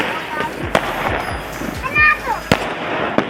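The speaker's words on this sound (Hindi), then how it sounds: "यहाँ पर देखिए कितने सुंदर सुंदर यहाँ बम बज रहे थे" Diwali firecrackers bursting outdoors, a string of sharp cracks and pops with whistling rockets, loud and irregular, while people talk in the background.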